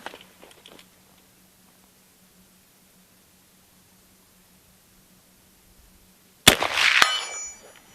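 A single loud .38-55 Winchester rifle shot with 255-grain jacketed loads cracks out, followed a moment later by a sharp metallic clang of the bullet striking a steel target about 95 yards away, after several seconds of near silence.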